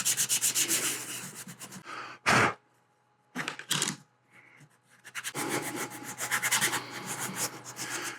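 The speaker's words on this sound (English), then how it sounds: "I'm gonna get these pieces sanded down, cleaned up" Laser-cut pieces for tealight jack-o'-lanterns being sanded by hand: rapid rhythmic rubbing strokes, close and steady, broken by a short loud scrape, a quiet gap and a few brief rubs, then resuming in a long fast run with no talking.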